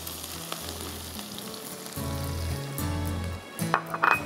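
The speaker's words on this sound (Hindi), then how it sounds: "इसमें जाएगा कुटावा लहसुन बहुत सारा, ये देखें 4 टेबल स्पून" Plenty of crushed garlic hits hot oil in a frying pan, bursting into a loud sizzle that swells and crackles, with a few stirring scrapes and clinks near the end and no voices.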